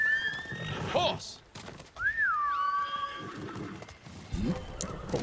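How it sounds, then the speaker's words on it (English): Horse in the samurai video game Ghost of Tsushima gives loud, rising whinnies and a snorting neigh, with clip-clop hoofbeats and game effects underneath. "Horse."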